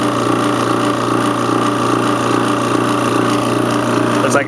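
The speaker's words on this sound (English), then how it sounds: "we're recovering gas to our cylinder here with the old micro vac" An old Micro Vac refrigerant recovery machine runs steadily, pulling gas from a Goodman HVAC system into a cylinder, a loud, close, unchanging motor and compressor drone with a faint rhythmic pulse.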